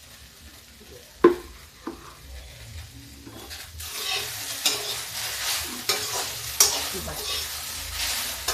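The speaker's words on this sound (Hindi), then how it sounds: "ऐसे ही थोड़ी देर उलट पलट के इसको सुखा लेते हैं" Village-style okra (bhindi), cooked without oil, is stirred and turned in a pan to crisp it, with scraping spoon strokes and a soft sizzle that grow busier after a few quiet seconds, and one brief word spoken.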